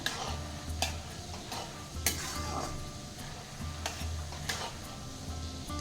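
Chana dal and peanuts fry in a pan for crispy paper poha chiwada, a constant gentle sizzle with regular scraping stir strokes from a spoon, close and fairly quiet.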